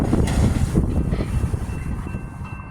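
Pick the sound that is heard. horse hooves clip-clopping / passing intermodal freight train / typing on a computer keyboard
passing intermodal freight train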